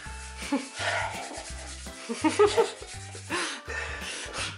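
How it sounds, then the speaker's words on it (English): Hands are rubbed with flour while homemade pizza dough is made at home, giving soft, dry rubbing and brushing sounds in short repeated strokes. Quiet background music plays under it. "you can actually rub all the flour all over your hands"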